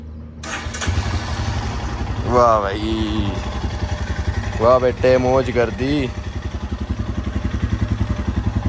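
A Royal Enfield Himalayan motorcycle cranks and fires up close by, then settles into a steady, thumping idle as someone talks excitedly over the engine.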